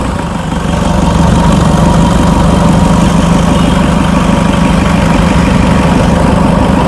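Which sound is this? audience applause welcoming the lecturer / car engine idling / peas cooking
car engine idling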